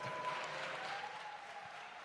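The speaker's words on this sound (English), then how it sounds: "Clap it up for that." An audience claps in a steady, fairly faint, even wash of applause with no talk over it.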